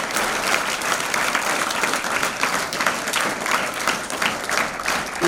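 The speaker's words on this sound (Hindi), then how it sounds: "जोरदार तालियों से स्वागत करेंगे" Vigorous applause from a school audience greeting faculty members, a dense and steady wash of many hands clapping at close range for several seconds, with no speech over it.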